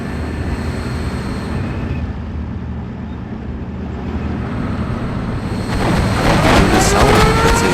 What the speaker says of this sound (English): There's a jet scout.